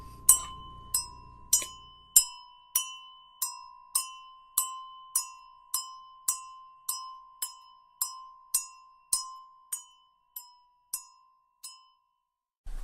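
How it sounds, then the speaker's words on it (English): A single bell is struck about seventeen times at a steady pace, each clear metallic ding ringing out and fading before the next, heard alone and close. "I'm gonna just stare at Akarra and ring the bell."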